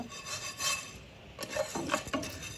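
Urad dal lentils being dry-roasted in a pan give off soft, faint scraping and rasping from stirring, with irregular little clusters of gritty rustle and light taps against the pan, and no talking.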